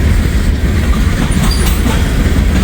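A Norfolk Southern freight train hauling boxcars and covered grain hoppers rolls past close by, with a steady loud rumble and rhythmic clatter of wheels on rail throughout, no voices.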